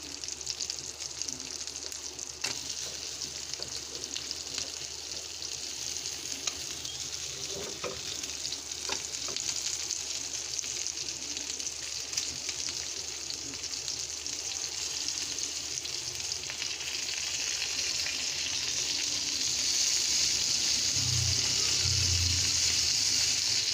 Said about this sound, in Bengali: কই মাছ ভাজা করছি।